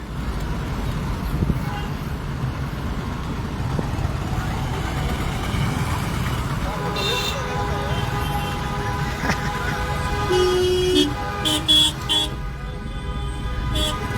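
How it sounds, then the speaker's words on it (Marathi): City traffic in Parbhani rumbles steadily, with several car and vehicle horns honking in short bursts over the drone and voices talking in the background. "परभणीतील ट्रॅफिक, परभणीला पण एवढी ट्रॅफिक करावं, कमाल आहे खरं"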